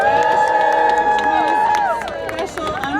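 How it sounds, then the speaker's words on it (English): A crowd cheering and shouting at an outdoor Groundhog Day event in Sun Prairie, Wisconsin, loud and sustained with a hum of voices and a few clear tones running through it for about three seconds. "if everybody could give us a big cheer to welcome"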